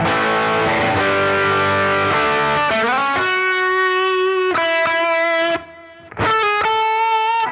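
An overdriven electric guitar with tremolo, driven by a Klon overdrive pedal, rings out chords and sustained notes with a gritty tone, loud and close, with a brief gap before the last chord.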